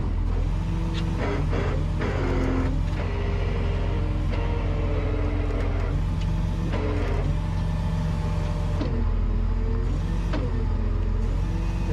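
A flatbed truck buried in a muddy field strains to get out, its engine droning loud and steady as the revs surge and fall over and over while the wheels slide without grip.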